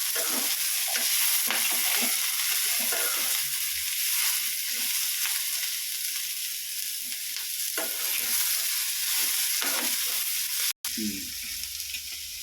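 Vegetables being sautéed in oil in a pan, a loud continuous sizzle with scraping stirs throughout, close up, broken once by a brief cut near the end.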